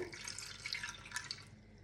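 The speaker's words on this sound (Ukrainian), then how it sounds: "І сюди мені потрібно влити пів стакана води." Water pours into a pressure cooker, about half a glass, a steady close splashing and trickling that runs for just under two seconds before easing off at the end.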